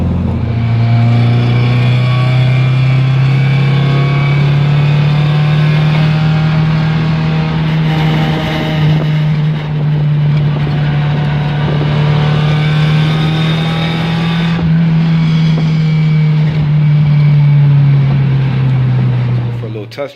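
A car engine hums loudly and steadily through a test drive, its low drone rising and falling slightly in pitch for about twenty seconds before cutting off at the end.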